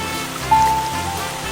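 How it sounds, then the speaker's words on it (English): Gentle rain falling as a sound effect in a children's animated story, a soft, steady wash of pattering drops that holds evenly throughout with no voices. "gentle rain began to fall"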